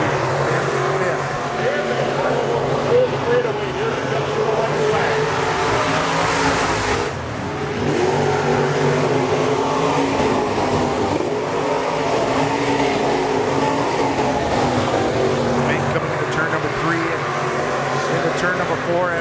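Stock cars roaring around a dirt speedway during a heat race at Nobles County Speedway, a loud continuous engine drone with brief dips as cars pass, under steady announcer talk.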